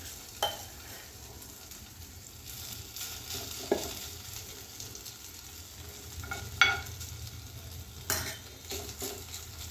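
Batter sizzles softly in a pan over a low gas flame, a faint steady crackle broken by a few louder scrapes and clinks of a utensil.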